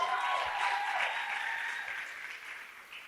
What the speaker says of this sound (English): And then give a round of applause to yourselves for coming here.